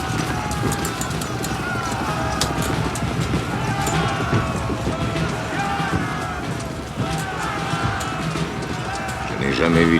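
A horse's hooves pound in fast, irregular clatter amid wind and battlefield noise, with people speaking over the galloping.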